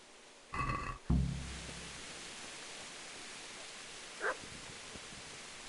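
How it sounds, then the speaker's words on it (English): In the video game Kingdom Come: Deliverance a dog barks twice in quick succession close by, then gives one fainter bark a few seconds later over a steady background hiss. "there's a dog barking."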